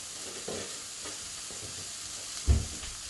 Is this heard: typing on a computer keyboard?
no